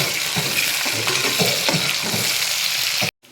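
Shallots and dried red chillies fry in a pan with a steady, loud, dense sizzle and crackle that cuts off abruptly near the end; no one speaks.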